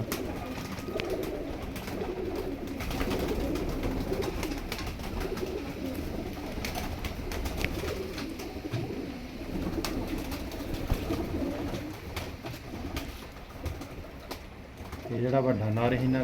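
Teddy pigeons coo in low, soft, repeated calls through a busy pigeon loft, with someone talking over them and a louder, closer coo near the end.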